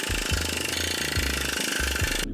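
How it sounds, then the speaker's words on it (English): Planishing hammer smoothing an 18 gauge steel fender top panel for a 1961 Jaguar MK2, a loud, close, continuous rapid metallic hammering that holds steady throughout, with slight changes in pitch as the panel moves under the dies. "I smooth it out on the planishing hammer"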